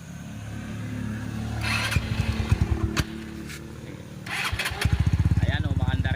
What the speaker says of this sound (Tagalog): subukan muna natin yung pang battery operated na CDI at papandarin muna natin.